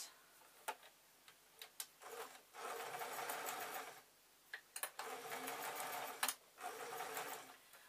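Home sewing machine stitching fabric pieces right side to right side, running in two sustained bursts with short clicks and handling noises between them, fairly close and loud with no talking.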